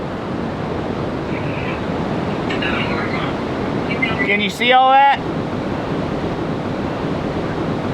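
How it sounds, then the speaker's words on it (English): Box Canyon Falls in Colorado roars from below, a steady broadband rush of falling water heard from the top of the falls, with a person speaking briefly over it. "We're standing right on top of the Box Canyon Falls."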